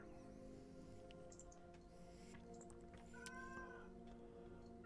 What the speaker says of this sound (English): I thought I heard cats.